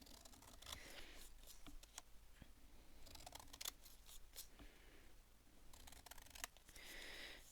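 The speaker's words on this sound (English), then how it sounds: "I'm just going to quickly snip off the white" Scissors snip the white edge off a paper picture, a quiet close series of sharp crisp cuts coming in irregular clusters with soft paper rustling between them.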